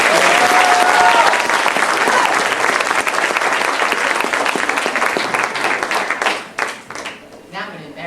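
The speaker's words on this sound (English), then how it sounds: "A big round of applause!" Audience applause at a library's first annual idea contest awards ceremony, a dense, loud wash of clapping lasting about six seconds before thinning into scattered claps and murmuring voices.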